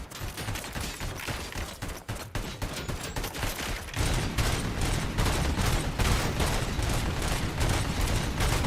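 Submachine gun fire in the RoboCop: Rogue City video game: continuous rapid automatic bursts, a lighter rattle at first, then a denser, louder stream of shots from the midpoint onward.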